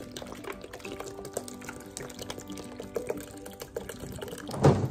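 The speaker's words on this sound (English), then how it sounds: "Two bottles of water for this bucket." Water is poured from bottles into a bucket holding strawberry chunks for Tongan strawberry otai, a soft steady trickle with a louder splash at the end, close by.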